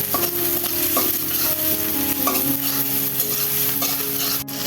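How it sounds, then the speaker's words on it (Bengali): Chopped onions sizzle in hot oil while being stirred, a steady frying hiss with repeated spatula scrapes and clinks against the pan, close up. "পেঁয়াজগুলো একটু লাল লাল করে ভেজে নেব।"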